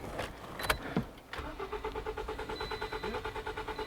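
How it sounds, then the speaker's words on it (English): A Toyota Corolla engine cranks without starting: a steady, rhythmic starter-motor churn of evenly spaced pulses that follows a few short clicks and knocks, fairly close and with no voices. "So now I'm gonna crank the engine."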